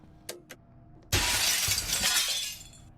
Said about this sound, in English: I didn't break all the glass already?